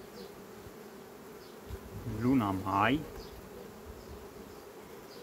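Honey bees at a beehive give a steady low buzzing throughout, while someone speaks briefly in the middle over the hum.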